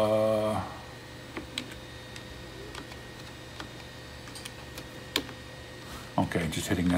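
Sparse computer keyboard key presses, including the Enter key, while setting up Turbo C++ 3.0: isolated clicks and taps spread across a quiet stretch, with a voice speaking at the start and end.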